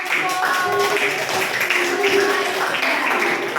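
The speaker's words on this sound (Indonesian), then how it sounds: "kita tepuk tangan dulu untuk kelompok" Schoolchildren in a classroom clap for a student group, scattered hand claps mixed with voices and chatter throughout.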